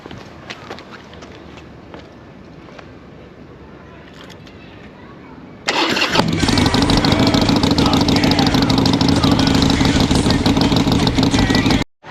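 A cheap Harley motorcycle's engine suddenly catches after quiet handling sounds, then runs loud and steady at a rough idle close by until cutting off at the end.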